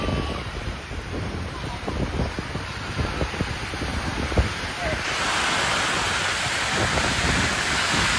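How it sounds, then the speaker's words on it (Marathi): Heavy monsoon rain falls on open ground where sheep are sheltering, a dense and steady roar that swells louder in the second half, mixed with wind gusts on the microphone. "पाऊस तर एवढा आलाय ना काय बोलायलाच नको"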